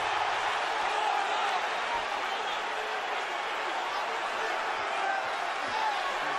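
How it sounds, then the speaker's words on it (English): A fight crowd in a Dallas arena roars and murmurs steadily, a dense, loud wall of voices holding at an even level the whole time. "The crowd reacts here in Dallas."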